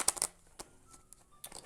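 A deck of tarot cards is shuffled by hand in soft, brief riffles and taps, quiet and close, with a few separate flicks spaced apart.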